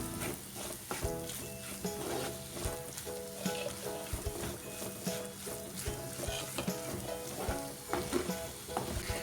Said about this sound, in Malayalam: ഇനി ഈ പൊടികളുടെ പച്ചമണം മാറുന്നത് വരെ ഒന്ന് വഴറ്റിയെടുക്കാം.